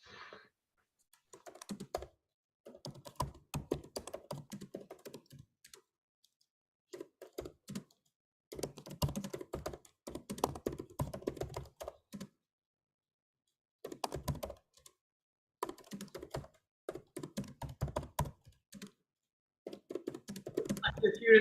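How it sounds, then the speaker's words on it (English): Rapid typing on a computer keyboard comes in bursts of dense clicking separated by short pauses, close and clear, with faint talk at moments. "You're furiously typing away there."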